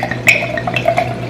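Wine trickles into a glass in a short pour, a soft close splash with a few faint clinks and drips over a quiet room.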